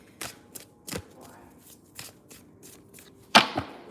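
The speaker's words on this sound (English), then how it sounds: "I just like to shuffle my decks before I sleep" A deck of cards being shuffled close up, with a series of quick crisp riffling and snapping bursts, ending in a sharper louder flick; no talking.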